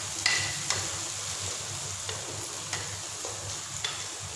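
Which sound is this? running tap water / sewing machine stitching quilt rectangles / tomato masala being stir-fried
tomato masala being stir-fried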